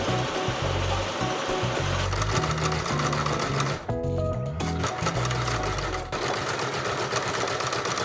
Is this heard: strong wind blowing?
no